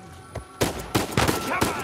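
Gunfire in the video game Uncharted 4: several sharp, loud shots in quick irregular succession, each with a broad burst and short tail, over a low game ambience.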